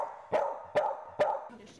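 A dog barks three times at an even, steady rhythm, each loud close bark ringing briefly, followed by a softer trailing whine.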